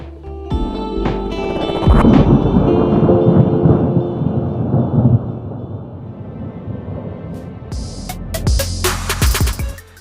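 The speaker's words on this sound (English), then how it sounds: "Now I'm gonna put this effect while there is thunderstorm sound effect." A dramatic thunderstorm effect laid into an edited mobile video: a loud rolling rumble swells near the start and holds for several seconds, then fades as sharp bright crackles close out the sound.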